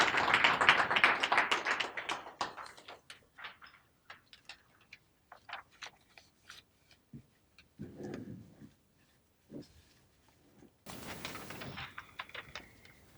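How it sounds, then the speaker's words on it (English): At a graduation ceremony, a short burst of audience applause quickly thins into scattered individual claps that are faint and sparse. Someone talks near the end. "can we give Zinzi a nice warm round of applause,"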